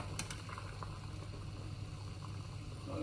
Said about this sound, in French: L'eau bout, j'ajoute les œufs délicatement.